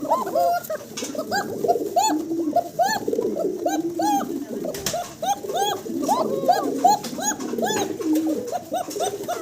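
Several pigeons, both male and female, coo continuously and close by, their rolling calls overlapping into a dense, steady chorus.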